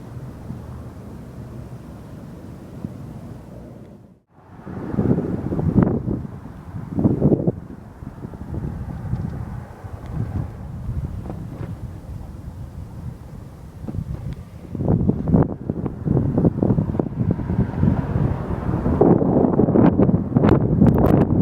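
Wind buffets the microphone while riding along a waterfront trail out of Kingston, a steady low rumble with louder gusts swelling and fading throughout, no speech.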